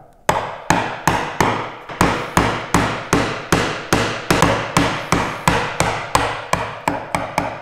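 A chisel driven by mallet blows into wood to cut a through mortise by hand, about twenty sharp, close strikes in a steady, even rhythm, each ringing briefly before the next.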